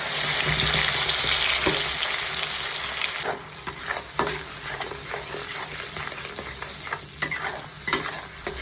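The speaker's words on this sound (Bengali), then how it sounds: "মশলাটাকে একটু ভাজা ভাজা করে নেব" A ground spice paste fries in a pan while being stirred, a loud, continuous sizzle at first that settles into softer frying broken by scraping strokes and occasional utensil taps.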